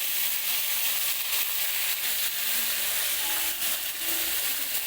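Whole spices frying in hot oil for a Dindigul-style chicken salna, making a continuous even sizzle and hiss that stays near and steady, with no voices over it.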